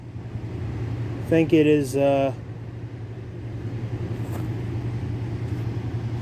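A Skag mower engine runs close by with a steady low drone and throb throughout, while someone speaks briefly over it.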